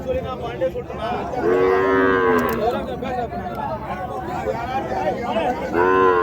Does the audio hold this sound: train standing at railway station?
no